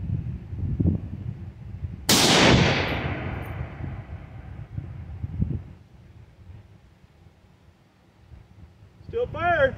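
A Ruger SFAR rifle fires a single loud, sharp gunshot nearby, its report ringing out and decaying over a couple of seconds, with people talking quietly before and after.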